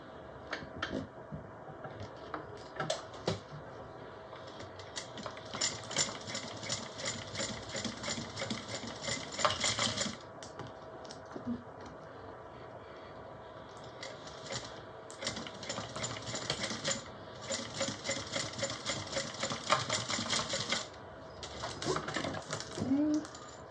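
A sewing machine topstitches down the sides of a mini bowler bag in two long runs of rapid, rhythmic needle clatter, with brief pauses between, close by and with someone talking at times.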